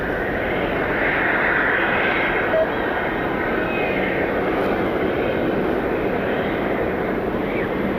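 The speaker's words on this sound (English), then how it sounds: "I think it's a United aircraft heading over for departure." A United airliner taxiing out for departure at an airport gives a steady, distant engine whine and rumble that holds even throughout. Someone comments now and then.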